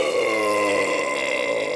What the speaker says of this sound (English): The Baron belches and looks up.